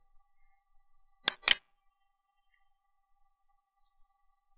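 Two quick, crisp computer mouse clicks land close together on a web page link, sharp and near against an otherwise quiet background with a faint steady hum.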